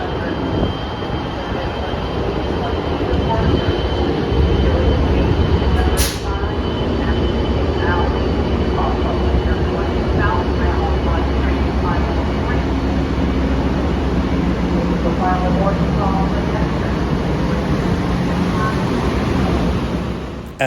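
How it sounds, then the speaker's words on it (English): Interior of an Amtrak Cascades train with Horizon cars: a steady, loud rumble of rolling wheels and rail noise with a brief squeal, continuous throughout, and faint voices in the carriage. "Let's board the train and finally make our way to Seattle."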